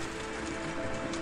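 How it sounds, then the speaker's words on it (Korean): Steady rain falls on a surface, a dense, even hiss of close raindrops with no other sounds, used as an audiobook sound effect. "비가 내리고 있었다."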